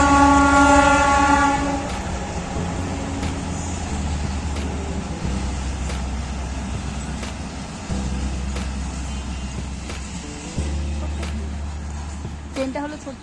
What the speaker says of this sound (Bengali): এই যে দেখো ট্রেন যাচ্ছে।